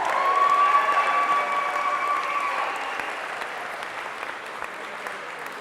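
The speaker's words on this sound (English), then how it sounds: "Would you please give a rousing round of applause to number 11 in the program, your senior setter, Eric Lehman." Audience applause for a senior setter at a boys' volleyball senior recognition night, a loud, dense round of clapping that starts strong and gradually tapers off, with no talk over it.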